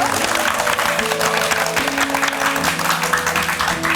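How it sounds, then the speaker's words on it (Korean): Continuous clapping from an audience, dense and even, with a Korean worship song sung over it. "그러면 박수를 좀 부탁드릴까요?"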